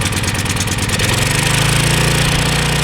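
A small generator engine, running again after its carburetor was taken apart and cleaned, chugs loudly and steadily close by with a rapid, even putter that deepens slightly after the first second.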